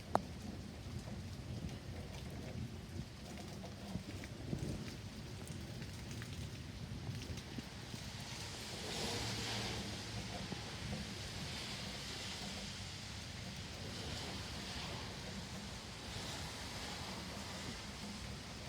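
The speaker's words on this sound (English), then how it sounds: "the rain's not really pouring too hard" Steady outdoor rain during a thunderstorm, a continuous hiss of drops on surfaces with low rumbling underneath, moderate and unbroken throughout, no voices.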